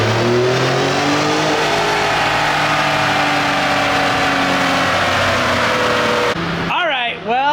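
Ford Raptor truck cruising without sport mode, a steady loud engine drone with rising harmonics under ongoing talk, ending in a brief shift as voices take over near the end.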